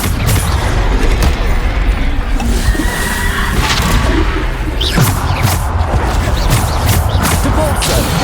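Booming Bombarda spell explosions burst through a dense, loud Hogwarts Legacy battle, stacked over constant clashing effects and rumbling impacts across the whole stretch.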